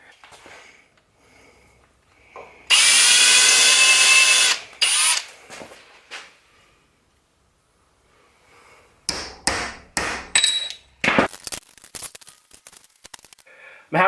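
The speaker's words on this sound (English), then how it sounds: "I'm going to get the drill again, and I'm going to mark that spot. I'm going to go over, drill," A power drill boring into a motorcycle fork mount during a KYB SSS fork swap on an Africa Twin, one loud sustained whine close by, then shorter bursts and clattering tool sounds with quiet gaps.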